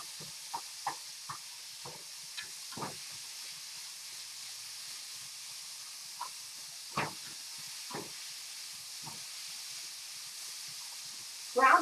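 Ground turkey and vegetables cook in a pan with a faint, constant sizzling hiss. Sparse soft clicks and scrapes come from stirring.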